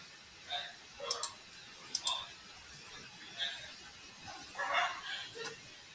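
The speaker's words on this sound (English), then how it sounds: "So we'll go click on view." Computer mouse clicking while working in Microsoft Word, a few sharp isolated clicks spread across a quiet background, fairly faint and close.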